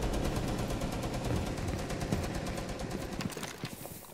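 Rapid repeated gunfire rattles steadily through a video game match, a dense stream of shots at moderate distance that thins out near the end.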